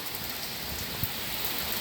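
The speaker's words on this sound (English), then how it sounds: "Just watch the rain pour." Steady pouring rain falling on surfaces outdoors near a driveway, a dense continuous hiss with no voices.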